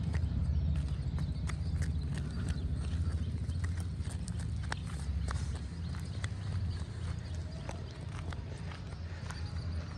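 Horse hooves clip-clop steadily on a road behind a horse-drawn carriage, close and continuous with a low rumbling undertone and no clear talk.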